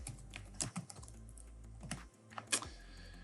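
Fingers tapping on a computer keyboard in quick irregular clusters of clicks, close and fairly crisp over a low steady hum, with no one speaking.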